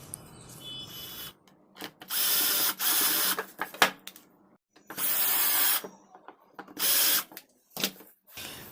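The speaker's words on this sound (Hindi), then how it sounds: "तो अब मैं सभी स्पीकर के फ्रंट कवर को लगाकर सभी स्क्रू को लगा देता हूँ" An electric screwdriver drives screws into the front covers of home theatre speakers, several bursts of steady whirring separated by silences and small clicks and knocks of handling.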